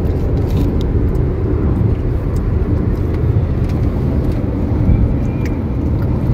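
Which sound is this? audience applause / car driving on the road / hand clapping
car driving on the road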